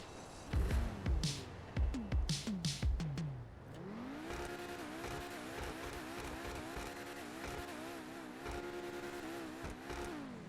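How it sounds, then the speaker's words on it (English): Torero XO supercar engine in GTA Online, compared to a Lamborghini Gallardo or Murcielago, gives several sharp blipping revs and then a sustained, rising-and-falling high-pitched roar under hard throttle, loud and close. "Definitely sounds like a supercar."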